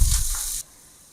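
Spices and dried red chillies sizzle and crackle in hot oil in a pan for a short loud burst, then cut off abruptly to near silence.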